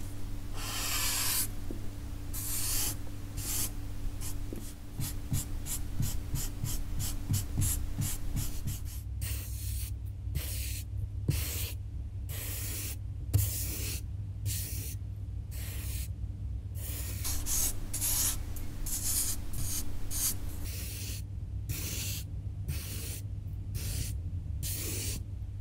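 A smudge stick rubs graphite across paper in a spider-web pencil drawing, making a steady close dry hiss of strokes, fast and brushing at first, then slower back-and-forth rubs with brief pauses, and no voices.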